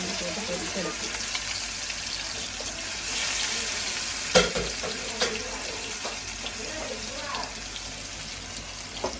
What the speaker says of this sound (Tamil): இப்போ வந்து நல்லா எண்ணெய் தெரிஞ்சுட்டு இப்போ நம்ம மீனை பொரிப்போம்